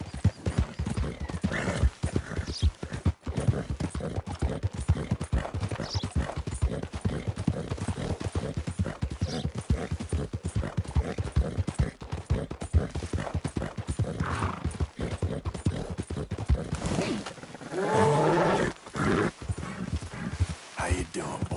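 A horse in the game Red Dead Redemption 2 clip-clops steadily at a brisk gait, hooves close and rhythmic throughout, with a whinny near the end and a voice speaking at times over the hoofbeats.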